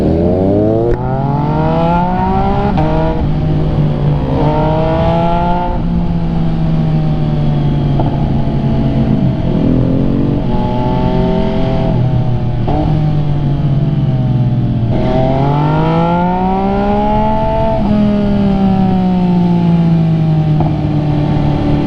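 An MV Agusta motorcycle engine revs loud and close, rising and falling in repeated throttle blips over a steady idle.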